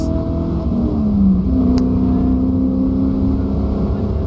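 A race car engine held at full throttle, a steady droning roar with rising pitch accelerating into fourth gear, close and continuous throughout.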